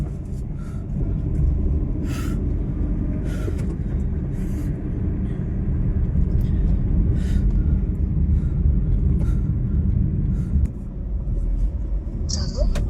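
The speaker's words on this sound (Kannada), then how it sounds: "ಹಿಂದಿಂದ ಹೋಗ್ತೈತೆ ಗಾಡಿ" A vehicle approaches from behind on a road, its low rumble swelling and fading beneath someone talking nearby.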